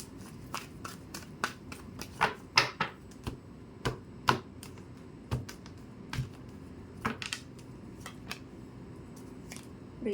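Oracle cards being shuffled and drawn in a tarot-style reading for couples, a steady run of sharp papery flicks and snaps close by with no talking.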